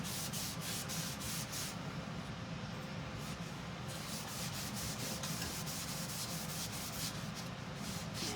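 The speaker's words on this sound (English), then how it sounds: "I'm buffing it down. I don't want too much wax or my paste won't stick to it." Wax is buffed off a wooden sign by hand, a steady soft rubbing and scrubbing sound with rhythmic strokes, continuous and fairly quiet, with no talking.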